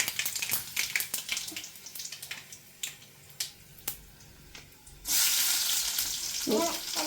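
Sharp crackles and pops of chana popping in hot oil scattered over a few seconds, then a loud steady sizzle bursts in and holds, with a brief voice near the end.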